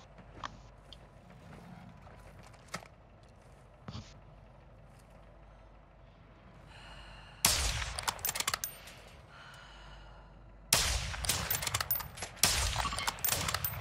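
Bursts of rapid gunfire in Call of Duty: Modern Warfare II crackle loudly in two long volleys, preceded by a few isolated shots and a quieter rumbling background.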